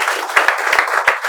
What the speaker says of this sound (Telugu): Claps for them.